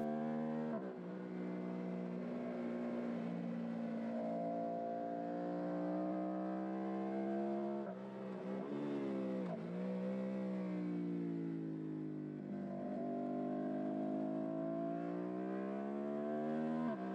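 A Suzuki SV650 twin-cylinder motorcycle engine drones steadily at high revs during a race qualifying session, pitch rising through gears with brief dips at shifts, continuous and close, no voices.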